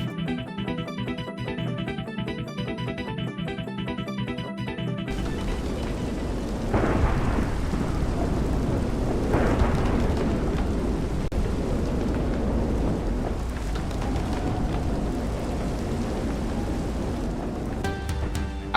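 Steady rain pours over a rolling thunderstorm in Minecraft with the Create mod, with deep rumbles of thunder swelling twice; a short burst of electronic music plays at the start.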